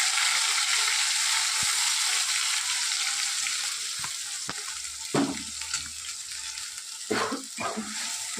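Ground paste of tomato, garlic, onion and green chilli frying in hot oil for a prawn curry, a loud steady sizzle with a few spoon scrapes and stirring knocks, no voices.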